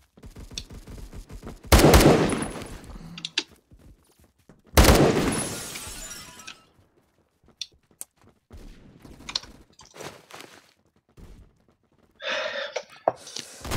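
Gunfire in a Roblox Phantom Forces sniping match, with two loud bursts of shots near the start, scattered fainter reports, and a dense crackle near the end.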